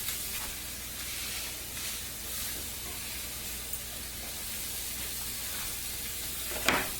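Food frying in a nonstick pan, a steady broadband sizzle and hiss that holds at an even level throughout, with a brief sharper crackle near the end.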